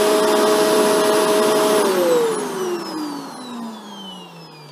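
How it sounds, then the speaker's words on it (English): A Shark Rotator NV752 vacuum cleaner motor hums steadily and loudly, then its whine drops in pitch and fades as the machine spins down, with no talking. "it turns itself off as soon as I tilt the vacuum into the upright position"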